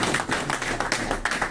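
Audience clapping in welcome at a Hindi-speaking gathering honoring members of a Manav Seva Trust, a dense continuous patter of hands with a few sharper claps standing out, moderately loud and without speech.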